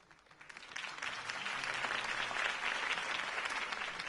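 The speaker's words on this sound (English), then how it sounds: "could have heard that applause" Applause from a crowd following a campaign speech, rising from scattered claps into sustained, even clapping that holds steady and fairly distant, with no talking over it.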